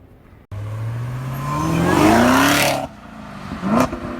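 A 2017 Chevrolet Camaro ZL1 accelerates hard, its engine note climbing steadily in pitch for a couple of seconds before cutting off, then a short second rev burst follows, loud and close with no talking.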